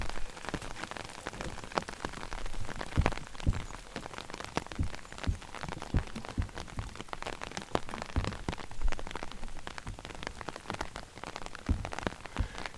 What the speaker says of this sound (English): So it is raining fairly briskly, very sudden.